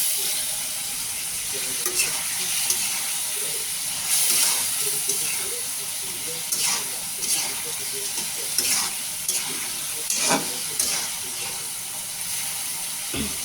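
Hilsa fish fries in a pan of cooked-down spice paste, giving a loud, steady sizzle and hiss with occasional stirring scrapes and sharp pops, heard up close.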